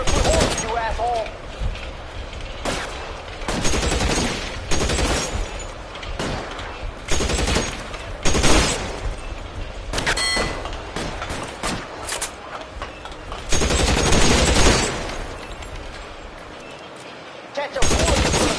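Heavy gunfire rattles through a shootout in the video game L.A. Noire, with rapid automatic bursts and single shots packed densely and loudly over several seconds, mixed with shouted voices.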